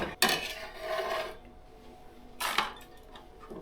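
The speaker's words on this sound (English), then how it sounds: "the cayenne, I'll just slice with the seeds in" A knife slices a cayenne pepper with the seeds left in, giving two sharp, brief cuts about two seconds apart with quiet kitchen background between them.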